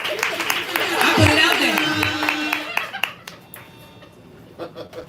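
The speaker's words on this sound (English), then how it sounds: "Y'all need to clap." An audience at a live spoken-word poetry show claps in scattered bursts under a host's voice, then the clapping thins to a few sharp claps.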